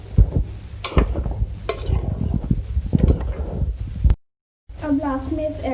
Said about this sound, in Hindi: इसको मिक्स करेंगे और 2 मिनट इसको कुक करेंगे